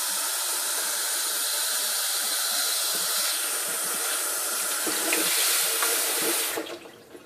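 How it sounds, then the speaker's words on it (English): Very hot tap water running into a glass hookah base, a steady hissing, splashing stream that holds level for several seconds and then cuts off near the end. "then you're gonna fill your base all the way to the top lip"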